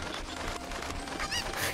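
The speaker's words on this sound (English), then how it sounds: "It's a cuckoo." Honking, squawking cucco chicken cries from Zelda Ocarina of Time come in short bursts, close and fairly loud, over a busy game background.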